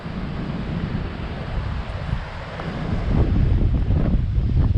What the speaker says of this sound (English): Maybe a little windy, getting there now.